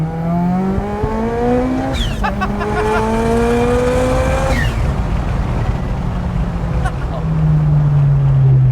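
Mitsubishi Evo 9 wagon tuned to 469 hp accelerating hard under turbo boost, engine note climbing through gears with sharp pitch drops at each shift, loud and close from inside the car, with some talk over it.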